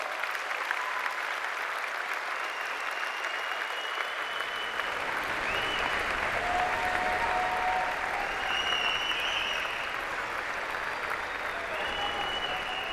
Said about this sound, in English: Give your families some applause.